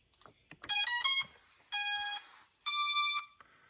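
Contixo F28 budget camera drone sounding its power-on alert: a few soft clicks, then three loud, sustained electronic beeping tones in succession, close up with no talking.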